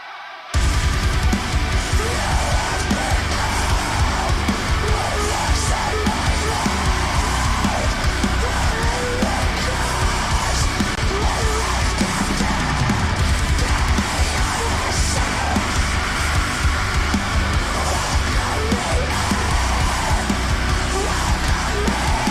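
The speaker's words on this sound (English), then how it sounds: "Very guttural screams, quite fitting considering the track is all about eating" Heavy metal track with dense distorted guitars and pounding drums, loud and continuous throughout, carrying harsh guttural screamed vocals over the full mix.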